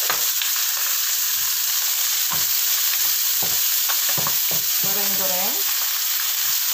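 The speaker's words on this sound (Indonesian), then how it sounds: "Lalu kita goreng bawang merah, bawang putih, sama potongan cabai dan sedikit jahe ya." Shallots, garlic, chili pieces and a little ginger fry in oil alongside fish, giving a loud continuous hiss with scattered pops and crackles and a brief tonal squeak near the end.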